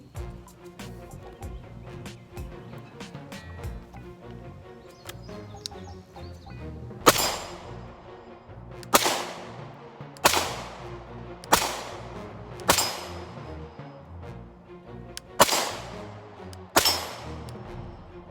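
Canik TP9 Elite SC pistol shots at an outdoor range, seven sharp, loud reports spaced about one to two seconds apart, each followed by a brief decaying echo, after several quieter seconds of faint background noise.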